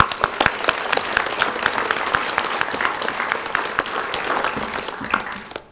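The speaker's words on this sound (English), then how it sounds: "that deserves a round of applause too" Audience applause at a press conference on Louisiana education results, a dense steady patter of many hands clapping throughout, fairly close and loud, with no talk over it.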